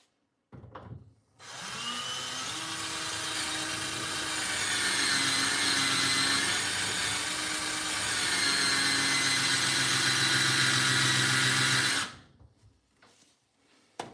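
A power tool whirs steadily for about ten seconds, a loud sustained motor drone with a harmonic hum, starting and stopping abruptly with quiet handling noise around it.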